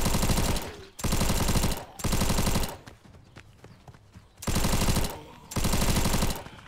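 Rapid automatic fire from a P90 submachine gun in the zombie video game Survival Nation: Lost Horizon, loud close bursts in four sustained volleys separated by short pauses with scattered quieter game noises between.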